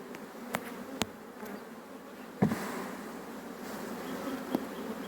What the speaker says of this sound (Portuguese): Esse enxame era pequeno, não era tão grande.